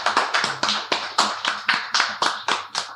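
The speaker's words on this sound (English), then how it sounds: "We want to give him a round of applause." Clapping from a small audience at a Nigerian investment talk, heard as a series of distinct, close, sharp claps in a quick uneven rhythm, each one decaying briefly before the next, with no one speaking.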